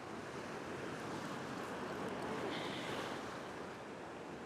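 Continuous broad roar of ocean surf washing against coastal rocks at a rock-fishing spot, steady and loud throughout with some wind buffeting the microphone, no voices.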